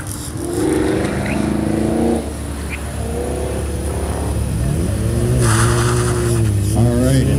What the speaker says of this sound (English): As the Camaro 1LE comes around the last sweeper.